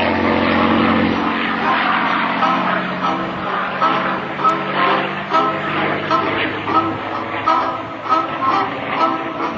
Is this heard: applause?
no